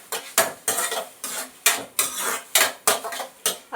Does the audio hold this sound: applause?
no